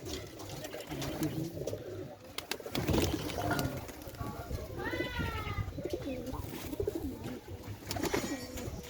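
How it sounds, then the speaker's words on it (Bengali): Giribaz pigeons, just released from their loft in Shantipur, Nadia, coo and flutter steadily, mixed with a high chirping call midway and murmuring voices nearby. "দেখুন সব পায়রাগুলো ছেড়ে দেওয়া হলো"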